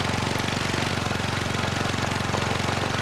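A vehicle engine strains uphill in a low gear, giving a loud, steady throbbing drone with a fast pulsing beat that runs through the whole stretch, with no talking.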